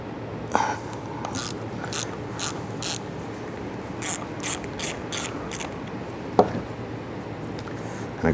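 A ratchet clicks in short repeated bursts while loosening a T30 Torx screw on a 2005-2010 Chrysler 300, crisp close ratcheting strokes with pauses between, plus a couple of faint metallic knocks.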